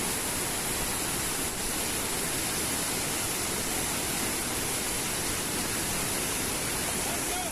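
A hidden waterfall at the Sithathipuram dam near Kuruvithurai, Madurai, roars close by in a constant, dense rush of falling water with no pauses.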